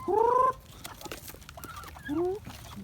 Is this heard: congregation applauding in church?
no